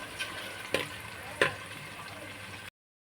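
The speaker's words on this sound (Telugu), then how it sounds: "ఉల్లిపాయలు, కరివేపాకు, ఉల్లిపాయలు వేసానండి. అవి కొంచెం గోల్డ్ కలర్లో బాగా వేగాలండి." Onions and curry leaves frying in hot oil for a Telugu boti curry, a steady soft sizzle with a couple of brief stirring clatters, close and fairly quiet, no talking.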